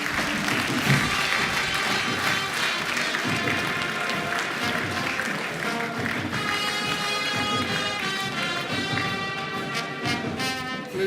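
An audience applauds after a graduation lecture and book presentation, a dense, sustained round of clapping lasting over ten seconds, with faint voices mixed in.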